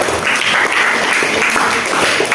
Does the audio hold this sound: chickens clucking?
no